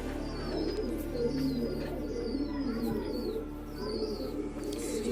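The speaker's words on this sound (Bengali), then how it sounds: "এখানে সব জোড়া পায়রাগুলো রাখা রয়েছে।" Pigeons cooing inside a loft of paired birds, soft repeated throaty coos layered over a steady low murmur, with occasional brief higher calls rising above the flock.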